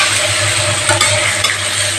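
Slit green chilies drop into hot oil with small fish frying in a pan, giving a steady loud sizzle and crackle, broken by a couple of faint stirring clicks.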